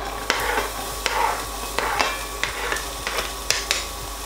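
Chopped onion sizzling in oil in a pot, stirred in a steady rhythm with repeated scraping strokes about every half second over a continuous close frying hiss.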